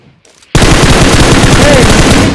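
Automatic gunfire from the mobile battle royale game PUBG Mobile bursts in suddenly after a quiet moment and keeps up as loud, dense rapid shots, with faint talk just before.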